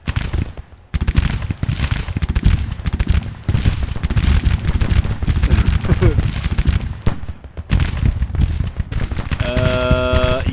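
Infantry gunfire from Grand Tactician: The Civil War, a dense, continuous crackle of rifle volleys and scattered shots rolling on for the whole stretch, loud and close, with brief lulls and a short ringing tone near the end.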